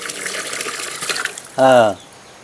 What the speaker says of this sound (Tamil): அரை குண்டா வந்துருச்சா தண்ணி